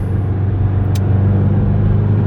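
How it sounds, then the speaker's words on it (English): 2019 Subaru WRX engine rumbling steadily from inside the cabin, a low, loud, constant drone with no clear rev change over a couple of seconds. "rolling through the gears of this 2019 Subaru WRX"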